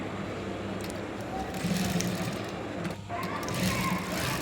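Sewing machine stitching elastic onto palazzo pants, a steady, fairly faint mechanical whir with rhythmic ticking throughout, while someone talks over it.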